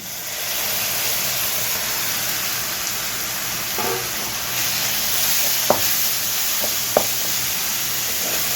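A ground paste of onion, ginger, garlic and coconut fries in a pan, a steady close hiss and sizzle with a few sharp stirring clicks near the end, no talking.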